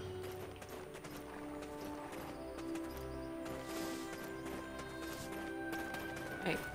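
Horses clip-clop in the Black Desert video game, a quiet, steady patter of hooves under a continuous layer of game sound.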